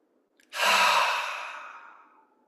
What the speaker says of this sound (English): Now slowly we will do deep breathing in again.